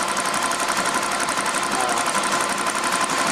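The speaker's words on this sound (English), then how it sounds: "Mainly just due to the fact that it's a pulsating pump." Pulsating aftermarket fuel pump running on a 1997 Powerstroke diesel after a banjo block upgrade, giving a steady, loud, fast buzzing whir with even rapid pulses throughout.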